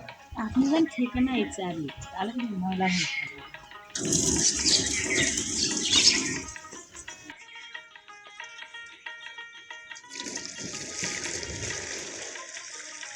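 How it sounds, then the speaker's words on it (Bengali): Fresh date palm sap is poured from clay pots through a strainer in Naogaon before boiling into molasses, in two loud, splashing bursts of liquid, with voices and other sounds around them. "আজিজার গাছি ছাঁকনিতে রসগুলো ঢেলে নিচ্ছেন"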